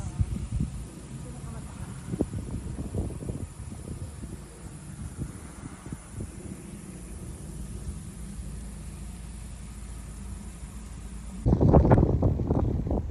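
Steady wind rushes across an open hillside in Tagaytay in the evening, a broad continuous roar that grows louder and gustier near the end, with people's voices talking intermittently underneath.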